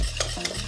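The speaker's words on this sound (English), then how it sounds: "Keep mixing it a little bit." A spoon or whisk stirs thick pastry cream (crème pâtissière) in a pot just off the heat, giving a brief close scraping and sloshing with a couple of soft wet swishes.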